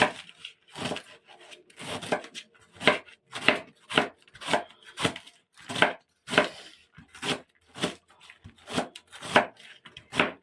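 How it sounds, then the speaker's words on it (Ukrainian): A knife chops fresh cabbage on a board in rhythmic bursts of crunchy strokes, close and clear, about a dozen cuts with short pauses between them. "ріжу не дуже мілко, тому що тушиться"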